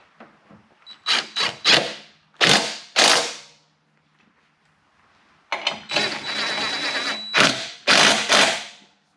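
A ratchet snugs up the bolts on the rocker box of a 2004 Harley-Davidson Road King Twin Cam, giving close, loud bursts of clicking in short spurts separated by pauses, with no speech.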